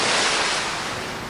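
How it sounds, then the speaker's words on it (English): A splash of something hitting water, one broad rushing burst that starts loud and slowly fades over about a second, heard alone with no voices. "The second sound, this one, was of hitting the water and we call it splash"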